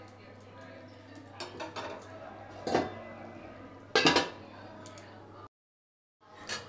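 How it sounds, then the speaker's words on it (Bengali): Pot lid set down over a pot of cooked rajma on a home stove, a couple of sharp metallic clanks and clinks close by amid faint kitchen background, then a brief silence. "এবার এটা আমি ঢাকা দিয়ে রেখে দেব।"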